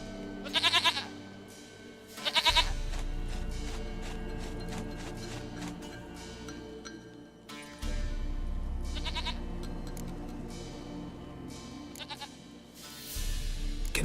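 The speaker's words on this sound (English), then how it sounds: "Goat of mine, dearest, sweetest goat." A goat in The Witcher 3 bleats in several loud, wavering cries spaced across the scene, with low ambient game sound between them.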